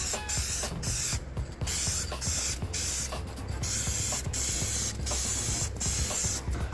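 Bursts of spray paint hiss in repeated short blasts onto Nintendo 64 parts, close and loud, with brief gaps between each spray.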